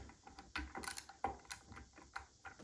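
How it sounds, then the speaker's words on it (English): Screwdriver loosening a screw on a ceiling fan during installation, a string of quiet clicking, ratcheting turns in an irregular rhythm, close and faint. "Get your screwdriver and loosen your..."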